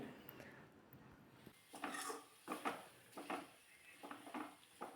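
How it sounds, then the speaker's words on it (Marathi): A spoon stirs sambar masala into leftover rice in a pan, making soft, repeated scraping and clinking strokes, quiet and close, in an uneven rhythm. "सांबार मसाला घातल्यानंतर छान असं हे मिक्स करून घ्यायचं आहे"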